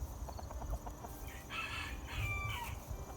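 A rooster crows at a moderate distance, a stretched, wavering call over a low rumble of background noise and faint clucking.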